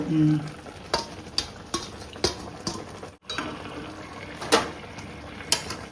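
Chicken posto being stirred in a kadai, low sizzling of frying meat and masala punctuated by repeated sharp scrapes and clinks of the spoon against the pan, close and irregular.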